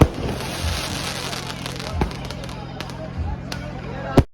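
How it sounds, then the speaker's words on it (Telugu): Firecrackers burst during a Ganesh immersion procession in India, with sharp cracks and pops scattered irregularly over several seconds amid a dense, noisy street crowd backdrop. "ఇంకా క్రాకర్స్ బెల్చుకుంటా వెళ్తా ఉన్నారనమాట."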